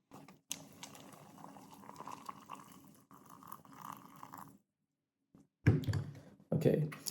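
Hot water poured into a cup of instant Tapatio hot noodles with dehydrated vegetables, a soft bubbling, trickling splash in irregular bursts broken by a short silence, fairly close and quiet.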